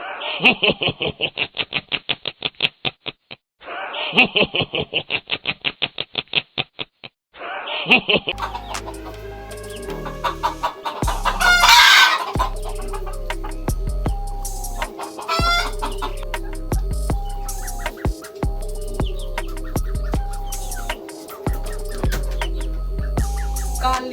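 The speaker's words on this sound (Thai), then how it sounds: "ที่เห็นอยู่ ก็คือในกลุ่ม ไก่พื้นเมือง" Native Thai chickens in a farm flock, loud rhythmic clucking bursts at first, then overlapping crowing, cackling and busy clucking from several birds nearby, continuous and layered with steady background noise.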